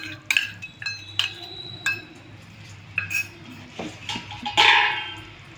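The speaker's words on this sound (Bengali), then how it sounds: "এর মধ্যে আমি কর্নফ্লাওয়ারের যে মিক্সচারটা বানিয়ে রেখেছিলাম সেইটা দিয়ে দেব" Cornflour mixture being added to chilli chicken in a pan, heard as a series of sharp metallic clinks and scrapes of a spoon against the pan, with a soft sizzle underneath and a louder splash-like burst near the end.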